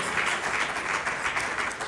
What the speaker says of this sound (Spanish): Regale una ofrenda de palmas al Señor.